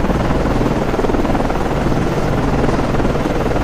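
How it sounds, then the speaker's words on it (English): A naval helicopter launching in the submarine game Cold Waters, a loud, continuous rotor thrum and turbine roar filling the whole stretch without a break. "Aircraft ready to launch"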